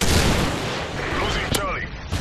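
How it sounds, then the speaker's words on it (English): Predator missile strike in Modern Warfare 3 multiplayer, a loud, continuous rumbling blast with crackling debris and distant gunfire, dense and close throughout, with a brief sharp crack near the end. "Friendly Predator missile inbound."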